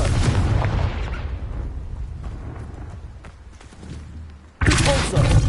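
A Confringo blasting spell in Hogwarts Legacy detonates with a heavy rumbling boom, the roar fading slowly before a second loud blast erupts abruptly near the end.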